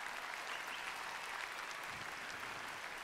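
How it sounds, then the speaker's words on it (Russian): Steady, dense audience applause at a televised singing contest in Kyrgyzstan fills the whole stretch, even and sustained without voices. "надо вернуть аплодисменты"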